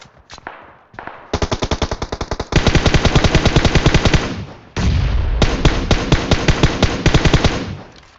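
Gunfire in the mobile game PUBG Mobile: a few sharp single shots, then long rapid automatic bursts of loud, evenly spaced cracks, pausing briefly before another stuttering volley.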